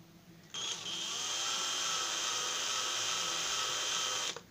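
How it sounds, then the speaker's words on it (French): A cordless drill-driver whirs at a steady high pitch for about four seconds while modifying a Peugeot air filter, starting abruptly and stopping suddenly, close by with no talking. "Vous prenez votre perceuse, enfin votre visseuse, vous mettez le plus au centre"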